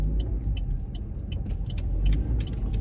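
Road traffic rumbles steadily and heavily, with a dense low drone of cars and engines, faint light clinks, and no voices over it.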